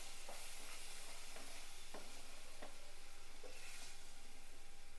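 Chutney being stirred in a hot tempering pan, giving a steady soft sizzle broken by a few sharp spoon scrapes against the metal, close and without any voice.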